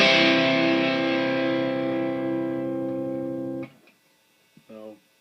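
Electric guitar chords ring out through an MXR M69 Prime Distortion pedal with the distortion turned up, a sustained, gritty chord that rings for several seconds, then stops and gives way to a short second strum.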